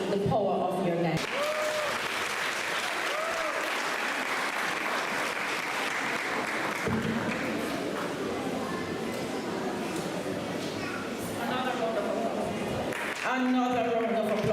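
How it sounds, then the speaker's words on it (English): Audience at a primary and infant school graduation ceremony clapping in a sustained round of applause, dense and steady for most of the stretch, with voices speaking over it at the start and near the end. "Another round of applause."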